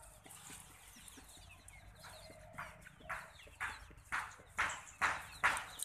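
Local chickens on a farm in Assam in cold weather cluck in a rhythmic run of short calls that grow gradually louder and closer over a faint steady background.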